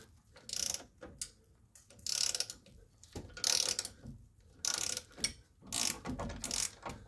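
Quiet, close ratchet clicking in repeated bursts as it loosens a nut on the upper ball joint of a 2002 Chevrolet Silverado, steady rapid pawl ticks with short pauses between strokes.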